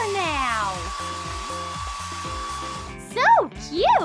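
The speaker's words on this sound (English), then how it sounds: "I have a hair dryer!" A hair dryer blows with a steady whirring whine amid animated bathroom-scene music, followed by squeaky cat-like meowing voices at the end.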